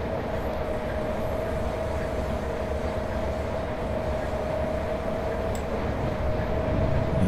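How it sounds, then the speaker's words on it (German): ÖBB 1189 Krokodil electric locomotive speeding up in the Train Simulator Classic game on the Semmering line, a steady loud rumbling run with a constant motor whine throughout, no voices. "Es geht so schnell, der Zug wird so schnell schneller."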